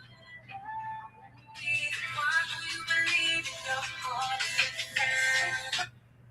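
A phone ringtone plays a loud, steady melodic tune, close by, for several seconds over a low background hum; no talking.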